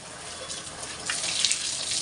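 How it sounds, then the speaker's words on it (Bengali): Tap water runs steadily as a pet is bathed. It splashes close by, growing a little louder and fuller halfway through, with no talk. "এই দেখো, সুজি স্নান করছে, তাই না?"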